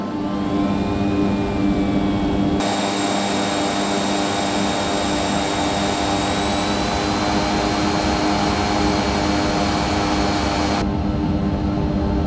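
A steady, loud aircraft engine drone with a high whine holds throughout in the flight simulator game X-Plane 11, continuous and close with no voices.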